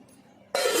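Jujubes are dropped into water for washing, quiet at first and then a sudden loud rush of splashing, swishing water close by.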